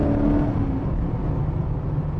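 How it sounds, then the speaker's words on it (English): A 1987 TVR 390SE with its V8 engine at full throttle gives a loud, steady, close engine roar with a deep low rumble. It holds the same pitch throughout, with no talk over it. "That's full throttle."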